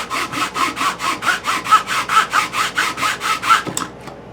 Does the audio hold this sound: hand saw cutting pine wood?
yes